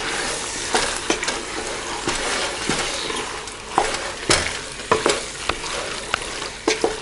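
Beef and curry paste stirred in a hot pan for a beef bhuna, a steady close sizzle of frying broken by repeated scraping knocks of the spoon against the pan.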